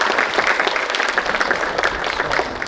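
Audience at an information security conference applauding the Chief Minister of Goa, Dr. Pramod Sawant, as he comes to the dais, a dense sustained roar of many hands clapping, loud and even throughout with no speech.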